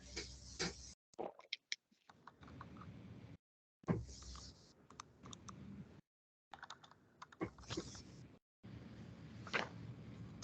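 Typing on a computer keyboard during an online committee meeting, faint scattered keystroke clicks in short bursts broken by gaps of dead silence.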